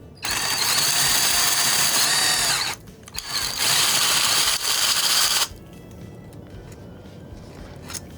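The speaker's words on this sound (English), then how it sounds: "we'll just drill another sample" A power drill bores into an adobe wall to collect a sample, whining loudly in two long bursts with a short pause between, then stopping to a quieter background.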